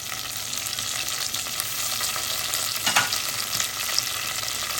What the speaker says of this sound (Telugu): బ్రౌన్ ఆనియన్స్ చక్కగా అయిపోయాయి. ఇప్పుడు ఇందులో మనం హోల్ గరం మసాలా వేసుకుందాం.